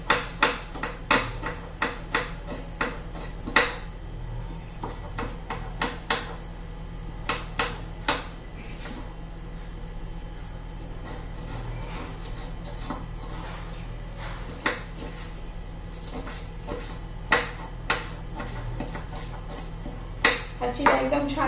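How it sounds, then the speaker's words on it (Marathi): A knife finely chops capsicum (bell pepper) on a board for besan chilla, the crisp sharp taps coming in quick irregular runs over a low steady hum. "आता शिमला मिरची बारीक चिरून घेते मी. एकदम बारीक चिरून घ्यायची आहे."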